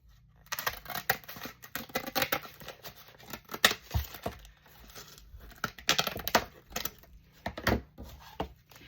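Scissors cut through book board taken from a Golden Book Encyclopedia cover, giving a series of close, sharp crunching snips and rustles in irregular bursts, with no talking.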